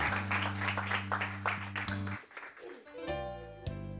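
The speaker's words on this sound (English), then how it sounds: "Please give a round of applause to mommy" Audience applause at a Christian business conference, broken claps spreading through the room over sustained background music, fading to a brief lull before organ-like music swells again.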